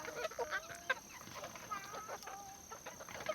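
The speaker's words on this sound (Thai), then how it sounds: "ไก่อันนี้เหมือนไก่ที่แม่เลี้ยงอยู่เทียงไฮ" Chickens on a hillside farm plot in rural Thailand cluck in short, irregular bursts, fairly faint and close, against a quiet outdoor background with a steady high insect-like tone.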